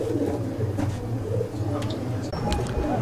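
Madrasi pigeons coo nearby in low, throbbing repeated phrases, a steady bubbling drone running throughout with a few faint higher chirps over it.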